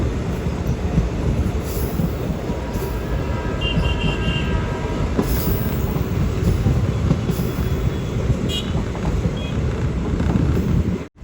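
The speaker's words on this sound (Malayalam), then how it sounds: "ട്രെയിൻ ഇതാ ജാംനഗർ റെയിൽവേ സ്റ്റേഷനിലേക്ക് എത്തിയിരിക്കുകയാണ്" A passenger train rolls into Jamnagar railway station in Gujarat, a steady loud rumble of wheels on track with brief metallic squeals, heard from on board throughout.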